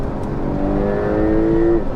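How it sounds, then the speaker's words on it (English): A Porsche 911 Turbo S engine revs up steadily, its pitch climbing into a high, singing whine at the top of the rev range before easing off near the end. "Hear it start to sing at the top end of the rev range."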